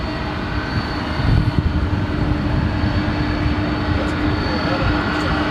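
An MD-11 jet airliner at DFW airport drones with a steady, broad engine roar that swells slightly, heard at a distance beneath people talking.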